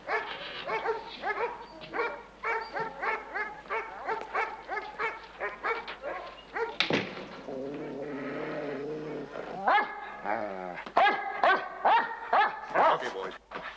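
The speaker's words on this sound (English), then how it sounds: "Beautiful dogs." Big guard dogs bark and growl in a rhythmic run of loud, close barks, broken by a whine and a lower growling stretch, with people talking at points.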